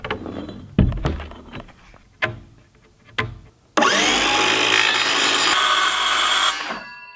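A power tool trims the bottom edge of a wooden quarterpipe skateboard ramp: a few sharp knocks and clunks, then a loud steady cutting whine lasting about three seconds before spinning down.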